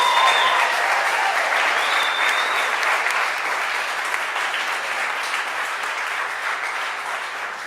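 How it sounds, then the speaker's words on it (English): Sustained audience applause for Cassie after her song at the 2023 Not In Our Town Unity Awards, a dense, even wash of clapping that starts full and slowly tapers over several seconds, with no talking. "Can we get another round of applause for Cassie?"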